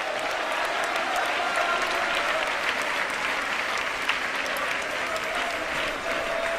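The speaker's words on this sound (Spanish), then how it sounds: "Más fuerte el aplauso," A church congregation applauds in praise of God during a revival-style service, a dense, steady roar of many hands clapping that holds for several seconds, with faint crowd voices mixed in.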